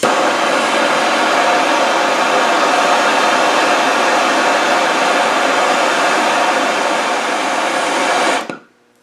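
Gas torch flame roaring steadily and loudly at close range while heating seized exhaust manifold studs, a continuous broadband hiss that runs unbroken before cutting off abruptly near the end.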